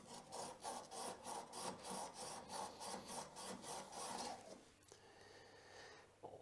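Steel bevel-edge chisel rubbed back and forth along a flat bench stone to take off the burr, a steady rhythmic rasping of about a dozen close strokes that stops near the end.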